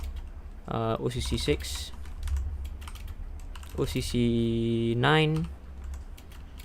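Keys clatter on a computer keyboard in quick bursts, close and fairly quiet, while a person talks over the typing throughout.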